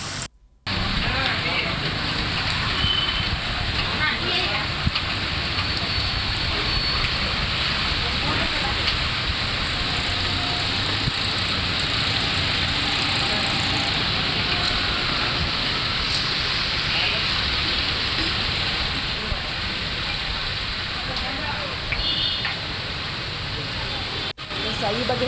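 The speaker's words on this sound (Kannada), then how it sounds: "ಇನ್ನು ಮಗೆ ಮಳೆಯ ಆರ್ಭಟಕ್ಕೆ ವಿಜಯನಗರ ತತ್ತರಿಸಿ ಹೋಗ್ತಾ ಇದೆ" Heavy rain pours down in Vijayanagar, a dense steady hiss that continues without a break for the whole stretch, loud and close.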